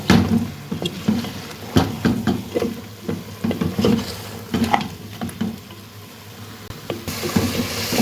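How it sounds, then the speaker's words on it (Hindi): Mutton sautéed with turmeric, coriander powder and other spices in a pan: a spoon scrapes and stirs repeatedly over a continuous, close, moderately loud sizzle. "अब सारे मसाले डालने के बाद गोश्त की अच्छे से बुनाई कर लेंगे मसालों के साथ"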